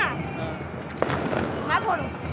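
A single sharp bang from a year-old firecracker set off outdoors pops once near the middle, short and moderately loud, amid a continuous wash of crowd and background noise with voices around.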